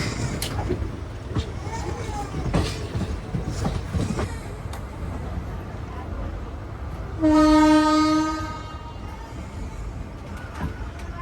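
A train rumbles steadily along the rails with a continuous rolling roar, and a loud horn blasts for about a second partway through.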